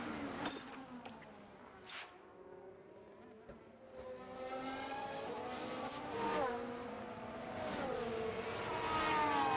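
A race car pulls out of the pits in a racing video game on a temporary circuit inside a park. The engine pitch climbs and falls through gear changes and builds louder toward the end, with no voices.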